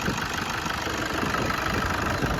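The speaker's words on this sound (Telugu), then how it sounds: "స్మూత్ నాయిస్ ఇంజన్ అయితే" A Toyota Innova engine idles steadily with a smooth, even mid-range hum and faint knocking texture, close and constant throughout, with no voices.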